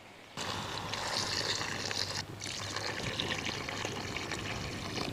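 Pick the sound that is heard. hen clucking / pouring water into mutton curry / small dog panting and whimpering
pouring water into mutton curry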